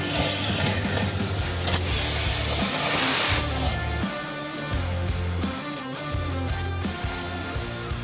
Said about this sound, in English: Our aerosol system activates instantly and stop the fire.